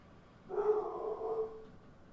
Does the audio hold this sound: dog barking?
yes